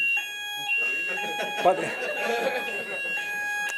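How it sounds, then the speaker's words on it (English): A building test alarm sounds during a conference talk, a steady high-pitched electronic tone ringing continuously while a presenter keeps speaking over it. "This is an alarm, which is a test alarm, so don't worry."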